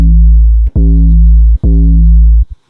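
Mono 808 bass from a single Serum 2 oscillator, playing three loud sustained notes with dense low harmonics, each cut off briefly before the next, with no other sounds.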